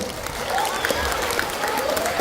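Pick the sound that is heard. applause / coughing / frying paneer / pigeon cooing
applause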